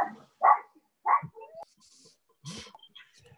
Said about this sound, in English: Somebody has a lovely dog.